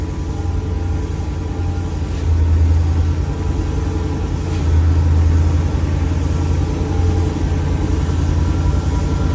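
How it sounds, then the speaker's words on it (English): An old motor that sat unused for about 25 years runs steadily and close by, with two brief swells in level where the clutch engages and the revs rise, no voices. "You can hear the clutch engaging if you listen real close."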